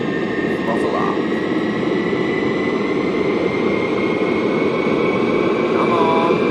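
Jet aircraft engine in a flight video game roars steadily and loudly throughout, a constant broadband drone with faint tonal whine on top, and a voice talks briefly over it.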